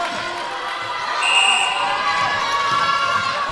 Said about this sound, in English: You can hear the crowd getting a bit louder in the hall